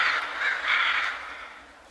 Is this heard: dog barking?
no